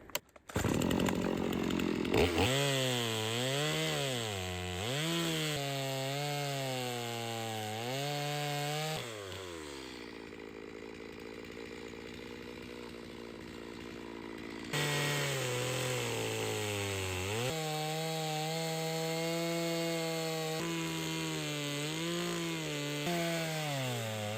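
A sharpened chainsaw cuts through a smaller log of softer wood, the engine loud and close, revving up and down in repeated surges with a brief lower idle midway before cutting hard again.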